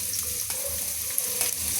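Chopped carrots and beans frying in hot refined oil for egg chowmein, with a steady, close hiss and sizzle and a few faint clinks.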